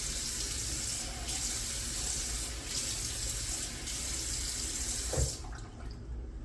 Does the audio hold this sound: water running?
yes